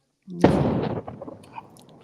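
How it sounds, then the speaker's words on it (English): A bomb blast in Gaza: a sudden heavy boom breaks the silence and rolls off into a rumbling, crackling decay lasting over a second, heard alone without voices. "Another bomb."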